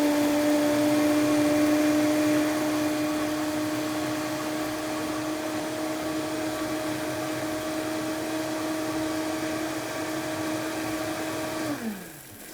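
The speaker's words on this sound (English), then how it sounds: "So we can start to blend" A blender purees peas with water for risotto, a loud, steady motor whir with a constant tone that holds for most of the clip and then winds down near the end.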